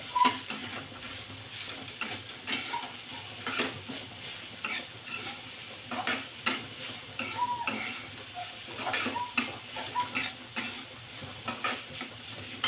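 Finely chopped carrot stir-fries in a pan with a soft, steady sizzle, broken by repeated scraping and clinking strokes of a spoon against the metal at an irregular pace.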